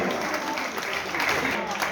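Applause from a crowd at a public gathering in Ghazipur marking Pandit Deendayal Upadhyaya's birth anniversary forms a dense, steady wash, with voices mixed in throughout the short burst.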